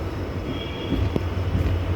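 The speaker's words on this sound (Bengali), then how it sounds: "এটা ইএমডি পাস করছে।" An EMD diesel locomotive passes near Kanchrapara workshop, a brief steady rumble with a sharp clank in the middle.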